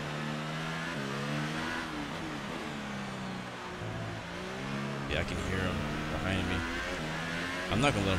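An F1 race car engine whines behind the player in a Spanish Grand Prix racing video game, a steady high revving drone rising and dropping through gear changes, continuous under a player's commentary.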